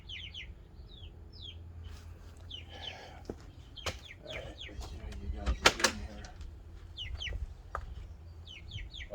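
Backyard chickens clucking and calling close by while someone moves around them bringing water, with a door or latch clank and a person talking intermittently.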